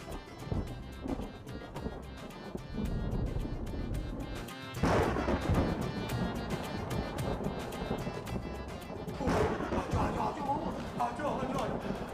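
Low, continuous rumbling thunder fills the scene, swelling twice into heavier booms over a windy, noisy background.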